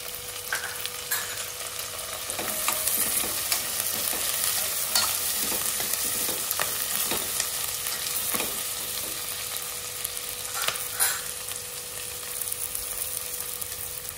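Potatoes frying in a pan while cooking kichidi, a soft continuous sizzle with occasional clinks and scrapes of stirring, quiet and close with no voices.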